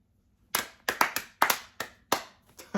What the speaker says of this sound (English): Clap your hands with me,